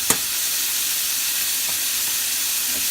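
Pesto goes into simmering coconut milk in a pan, giving a steady bright sizzle and hiss with a soft splat at the start, close and continuous with no talking.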